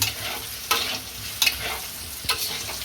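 Soaked sago pearls frying in sunflower oil, peanut oil or ghee, with a soft continuous sizzle broken by a few sharp stirring scrapes of a utensil against the pan.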